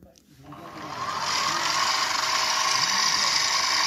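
A steady mechanical whine of a lathe or drilling machine on fine feed machining a live steam locomotive driving wheel, rising in over the first second and then holding constant and fairly loud, with no talk.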